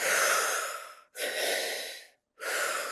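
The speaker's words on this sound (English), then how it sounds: "2 quick breaths in, 1 out" Breathwork exercise with two quick breaths drawn in followed by one long exhale through the mouth, three close, loud breath bursts separated by short silences, no talking.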